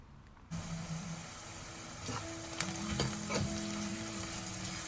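Onions fry with dried red chilies and salt in a pan, starting abruptly with a loud, steady sizzle, then a spoon stirs and scrapes through them with clunks and bursts of crackling.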